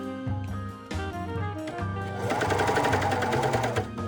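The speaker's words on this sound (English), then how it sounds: "sew the sleeves to the armholes" A sewing machine stitches sleeves into the armholes of a long-sleeve bodysuit, running steadily and close up with brief pauses and restarts before a longer, denser run of rapid needle strokes.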